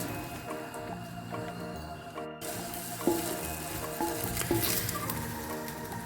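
Peppers drop into hot olive oil in a pan for canned menemen, setting off a wet, moderate sizzle with soft squishing and spattering, heard near and without talk.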